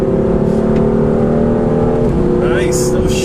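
BMW M3/M4 engine on the Road America race track, loud and steady close up, with a sharp pitch drop near the middle as a gear shift comes through, then climbing again under faint background noise.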